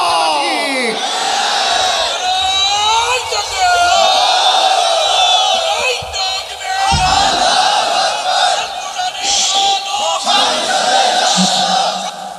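A large crowd at a Bangladeshi Islamic religious sermon (waz) shouts the takbir in loud, sustained massed voices that swell and overlap for the whole stretch, rough and echoing like a rally cry.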